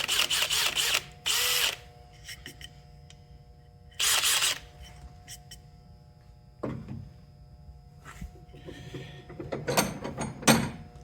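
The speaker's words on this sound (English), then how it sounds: "Grab your hand drill with the flag on it. And you're going to drill that second hole" A hand drill bores a pilot hole through sheet metal held in a vise, with several loud, grinding bursts separated by pauses, plus ratcheting clicks and handling noises close by.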